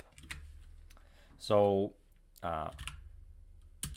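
A few sharp keystrokes on a computer keyboard as a short command is typed on a Windows 10 machine, the clicks sparse and close, with someone speaking between them.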